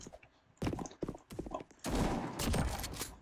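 Remington 700 sniper rifle firing inside a Roblox game, with sharp loud reports at irregular intervals, then a denser burst of overlapping shots and noisy crackle toward the end.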